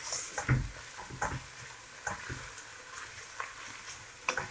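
A spoon stirs a pot of chicken and vegetable soup just topped up with hot water, giving soft irregular scrapes and clinks over a faint simmering sizzle, close and quiet, with no talking.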